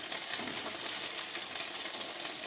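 Onion vadas frying in hot oil, a close, bright, continuous crackling sizzle that holds steady with no voices.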